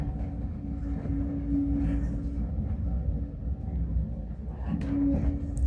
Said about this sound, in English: Toddington Station and trains